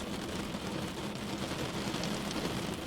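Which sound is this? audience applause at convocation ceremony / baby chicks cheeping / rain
rain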